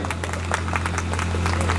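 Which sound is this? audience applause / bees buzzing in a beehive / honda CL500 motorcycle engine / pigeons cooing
audience applause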